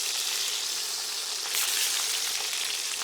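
Cajun turkey wings sear in a hot pan, giving a loud, steady, crackling sizzle that holds throughout with a brief swell midway and no talking.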